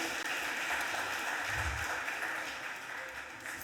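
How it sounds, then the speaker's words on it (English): Applause at a Philadelphia City Council stated meeting, a faint, steady patter of many hands clapping in a large chamber, sustained for a few seconds. "Let's give her a round of applause, please."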